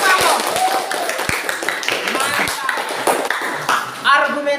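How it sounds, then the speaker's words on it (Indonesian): A few sharp claps ring out in a classroom for a student's answer, scattered among close voices talking. "Tepuk tangan dulu untuk kamu."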